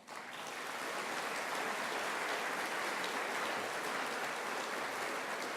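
Audience applause at a book talk, rising quickly and then holding as a broad, steady roar of many clapping hands, heard alone and slightly distant.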